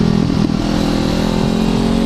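A 2016 Honda CBR 500 R, a small-engine A2 sport motorcycle, drones steadily while being ridden through tight bends, a loud continuous engine note with wind, no speech.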